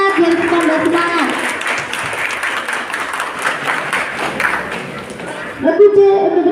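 Sustained applause from the audience at a children's Quran quiz competition (CCQ) at FASI Bulukerto, filling most of the stretch before a voice comes in near the end.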